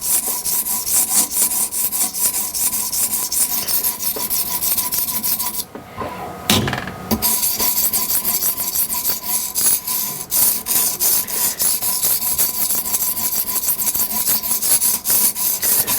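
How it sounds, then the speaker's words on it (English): A knife blade worked on a 120 grit sharpening stone gives a steady, close rasping scrape that runs almost without a break, pausing briefly partway through before the strokes resume. "I'll give this a little polish here. And I'll take the worst of that 120 stone out of there."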